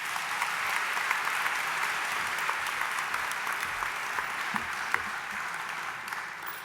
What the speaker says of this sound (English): Please give a big round of applause to Jessica Colpoys.